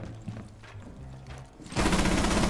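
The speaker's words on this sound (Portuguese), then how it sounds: "eu vou jogar a granada" A grenade detonates in the tactical shooter Rainbow Six Siege, a sudden loud, broadband blast that erupts after a stretch of low game ambience and rumbles on to the end.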